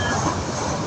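Train rolling into Cox's Bazar station, a steady, loud broadband rumble of rail cars with faint wheel noise, close by and without voices.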